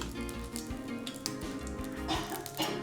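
Spice tempering sizzling in hot oil for a spicy onion chutney, a faint, steady crackle with soft popping spatters and a low hum beneath, heard alone without talk.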